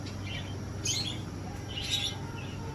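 Small birds chirp in short bursts over a steady low hum, a busy indoor chatter of budgies in a pet shop with no voices.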